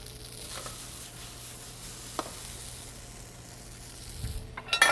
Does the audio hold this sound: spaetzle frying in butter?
yes